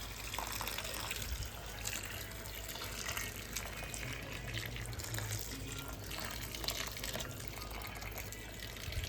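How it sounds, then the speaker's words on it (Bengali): Hot water pours steadily into a cooking pot with a continuous splashing gush, close and fairly loud, with no talk. "এবার এখানে একটু গরম জল করে নিয়েছিলাম, একটু গরম জল দিয়ে দেবো"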